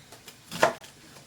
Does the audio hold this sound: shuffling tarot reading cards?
no